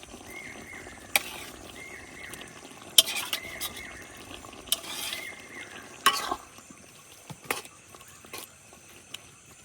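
Fish stuffing of pangas is stirred into half-boiled potatoes in a pan with village spices, giving quiet scraping and stirring scrapes with a few sharp utensil knocks over a faint sizzle.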